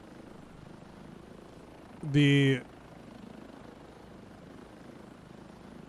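Helicopters in the video game Desert Strike give a brief, loud burst of rotor and engine noise lasting about half a second, rising clearly above a low, steady background hum.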